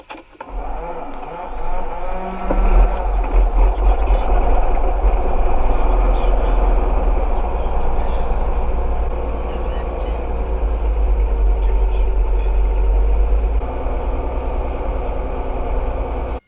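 A small aircraft engine runs steadily during pre-flight checks, a low continuous drone with a deep rumble heard from inside the cabin, while people talk over it throughout.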